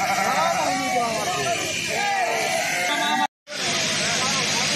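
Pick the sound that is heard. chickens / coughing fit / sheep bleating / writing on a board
sheep bleating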